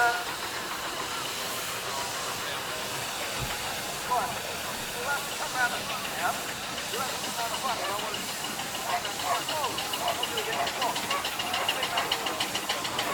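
Twin steam ploughing engines at the Wiston Steam Rally 2017 let out a loud, continuous hiss of steam that runs unbroken throughout, with someone talking faintly beneath it.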